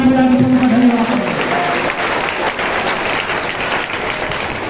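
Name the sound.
congregation applauding loudly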